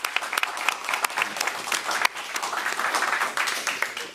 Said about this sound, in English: So maybe you would join me in applauding them once more for that.